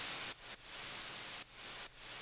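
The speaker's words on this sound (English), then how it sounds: "here is just a whole layer of white noise" A layer of white noise from a music track, a steady hiss that cuts off in four brief gaps in a rhythmic pattern, with no other sounds.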